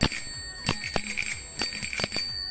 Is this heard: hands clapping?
no